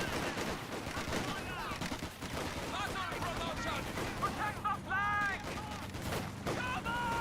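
Dense, continuous small-arms fire and explosions crackle in a World War II battle in the video game Company of Heroes 2, with a voice speaking over the steady din.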